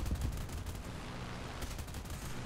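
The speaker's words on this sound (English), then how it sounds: "I'm shooting at it right now" Tank gunfire crackles in rapid, dense bursts during a Stalingrad battle in War Thunder, faint and distant, with no talk over it.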